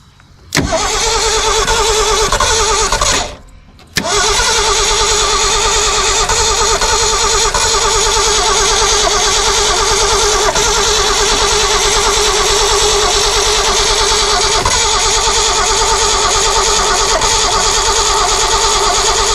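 A long-dormant Ford Bronco engine cranks, briefly cuts out, then catches and runs steadily, a loud, close, continuous mid-pitched rumble with no talking over it.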